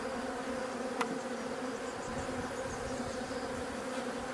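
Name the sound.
honeybees buzzing at a hive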